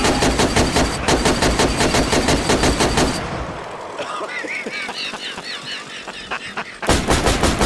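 Rapid automatic gunfire in a video game, loud and dense bursts that stop midway, giving way to quieter electronic game effects before the shooting resumes at the end.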